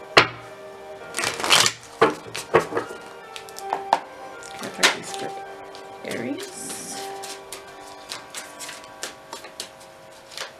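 Ghost Tarot cards being shuffled up close in quick riffling bursts and soft taps, irregular and separated by short pauses, with a voice heard in places.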